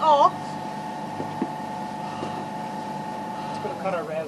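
Sailboat engine motoring slowly through a marina, a steady low drone with a constant tonal hum running throughout, close and continuous, with people talking over it at the start and end.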